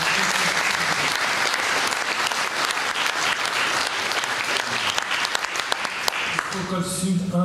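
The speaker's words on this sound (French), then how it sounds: "Je crois qu'on peut quand même applaudir la performance" An audience at an evening event honoring Pierre Mazeaud at the Majestic claps for a performance, a dense, sustained round of applause that tapers off as a voice begins speaking near the end.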